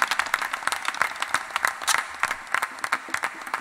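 Audience applause in a theatre after a performance, dense continuous clapping from many hands filling the room at steady loudness.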